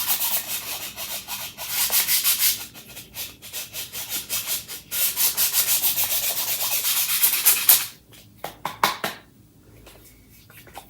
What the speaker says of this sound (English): So just pretty easy to sand.